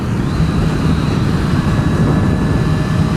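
A Kawasaki Z1000SX motorcycle on a test ride gives a steady, loud engine roar mixed with heavy rushing wind noise, continuous throughout with no talking.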